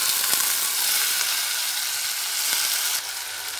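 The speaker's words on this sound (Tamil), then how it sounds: "நல்லா வதக்கிக்கலாம்" Onion, tomato, green chilli and curry leaves sautéing in hot oil for a sundakkai kuzhambu, a steady close sizzle with occasional sharp ladle scrapes.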